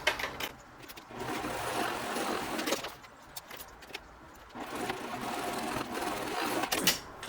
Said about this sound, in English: you're going to go ahead and stitch these on.